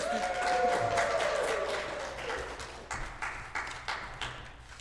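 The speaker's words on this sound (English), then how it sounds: "Everybody claps and sit." Audience clapping at a church Purim service play as a queen is crowned, a rush of applause that swells and then breaks into scattered, uneven claps fading toward the end.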